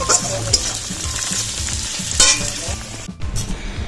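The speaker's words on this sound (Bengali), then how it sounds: "আর এই যে এবার পেঁয়াজটা দিয়েছি কড়াইতে, পেঁয়াজটা একটু ভাজা হয়ে গেলে তারপরে মশলাগুলো দিয়ে দেবো।" Onions frying in a kadai, a loud steady sizzle broken by scraping stirs of a spatula against the pan, with one sharp clatter near the end.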